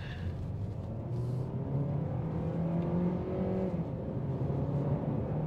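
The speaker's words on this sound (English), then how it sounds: "I hear both the electric motor and the gas engine working to bring us to speed." A 2024 Hyundai Sonata Hybrid Limited accelerates in sport mode, its gas engine and electric motor pulling together as engine tone climbs and settles over road noise, heard from inside the cabin without talk.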